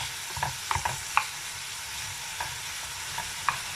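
Braciolette rolls of meat with chopped vegetables browning in a pan, giving a soft steady sizzle with a few scattered stirring clicks and scrapes.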